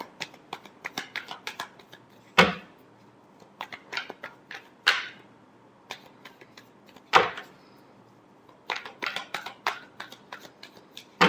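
Tarot cards shuffled by hand in a quiet room, a series of short crisp riffles and flicks with a few sharper snaps where the deck is cut or tapped, spread across the whole stretch with brief pauses between bursts.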